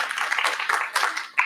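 Applause from a panel discussion audience, steady dense clapping at moderate loudness that swells and then breaks off near the end, with a brief voice-like burst at the finish.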